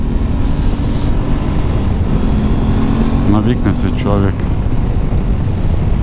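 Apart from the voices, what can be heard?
Aprilia Tuareg 660 motorcycle engine while riding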